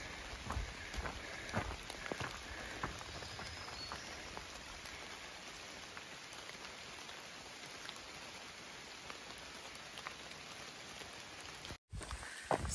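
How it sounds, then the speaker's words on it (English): Steady rain falls through the woods along the Appalachian Trail, an even patter on leaves and ground that is fairly quiet and constant, with a brief break near the end. "walking in the woods with the rain."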